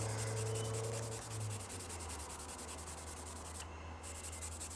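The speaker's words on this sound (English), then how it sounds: "I'm going to just see if I can Scotch-Brite that slight little bit" A Scotch-Brite pad rubs steadily against a metal part from a Ford ZF Fairlane restoration, making a quiet, continuous scrubbing close by, with a low hum underneath.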